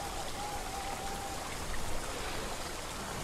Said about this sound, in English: It's raining, though, so we can't smell.